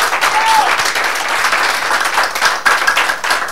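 A church congregation bursts into loud, sustained applause for the Lord, a dense clatter of many hands with faint voices mixed in throughout.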